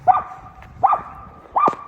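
A tiny dog barks three times, sharp and close, with even pauses between each yip, over quiet background noise.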